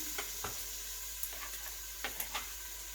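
Vegetables sizzle in a pan for a miso soup with veggies, a steady hiss close by, while a utensil stirs them with a few distinct clicks and scrapes spaced through it.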